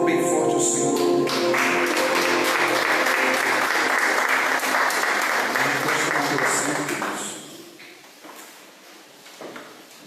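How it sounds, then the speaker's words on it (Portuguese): A church congregation applauding loudly, dense sustained clapping over several seconds under a speaking voice, then fading out with scattered claps and quieter room sound. "Isso, aplauda bem forte o Senhor."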